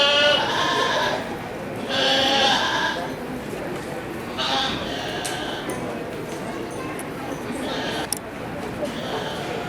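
Goats bleat in repeated loud bursts across a show ring at a county fair 4-H and FFA meat goat show, with an announcer talking over the barn's background noise.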